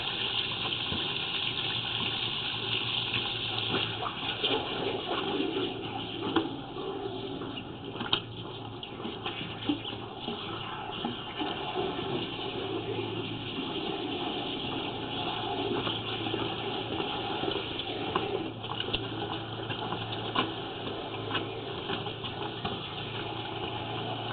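Water rushes steadily through an area drain line, washing debris along with a constant loud gushing roar, joined by a low engine-like hum, for over twenty seconds with no speech.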